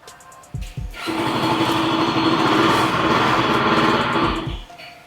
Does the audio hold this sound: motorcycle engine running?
yes